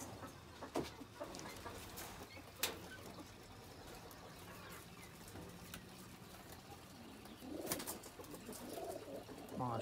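Oman pigeons cooing and fluttering, mostly soft and steady with a few louder bursts, a busy bird-filled background throughout and a stronger stretch of cooing near the end.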